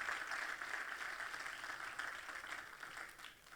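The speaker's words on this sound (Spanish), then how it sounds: "Denle ese aplauso fuerte al Señor." Church congregation applauding during a Spanish-language sermon on repentance, a steady, fairly distant wash of clapping that holds evenly throughout with no clear speech over it.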